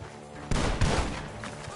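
Two heavy gunshot blasts boom in quick succession in Red Dead Redemption II, followed by a lingering rumbling tail and faint background noise.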